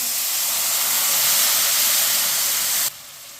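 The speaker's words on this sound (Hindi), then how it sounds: "ये मैंने 1 कटोरी पानी डाला है।" A bowl of water poured into hot roasted semolina for suji halwa bursts into a loud, steady steaming hiss that cuts off sharply near the end.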